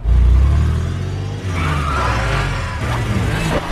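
A stolen car drives off with a loud engine roar that builds and rises in pitch, close and continuous, with a brief tire squeal.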